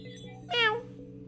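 A single drawn-out meow imitated by a human voice while playing the video game Stray, fairly close, over a steady low electronic hum.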